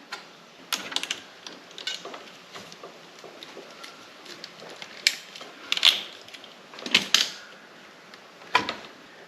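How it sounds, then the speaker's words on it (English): A cheap ratcheting crimper squeezes 2-gauge ring terminals from CellTerm, giving a series of sharp mechanical clicks and creaks. The bursts are close and irregular, and they cluster toward the end. "I have this ratcheting crimper"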